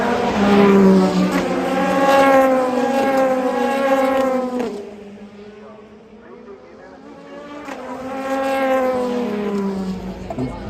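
Le Mans prototype race cars, including the number 8 Toyota, scream past during the 2023 race, their engine pitch sweeping up and then falling away in two separate passes, with a commentator talking over them.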